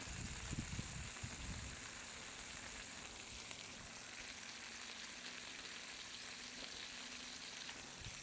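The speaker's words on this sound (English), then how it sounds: "they're just cooking down in that butter that we put on them to start with" Smashed bacon cheeseburger patties fry in butter on a Blackstone flat-top griddle, giving a steady, hissing sizzle. A few brief low knocks open it before the frying carries on evenly and quietly.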